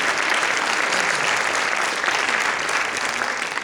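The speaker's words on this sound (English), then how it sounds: "Give him a big round of applause." Steady, dense applause from a large seated audience at an Irish music and storytelling retreat, sustained evenly throughout without voices over it.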